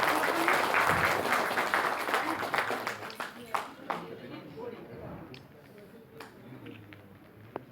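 An audience at a public event gives loud applause that starts strong and gradually thins out to a few scattered claps, with a voice talking faintly underneath.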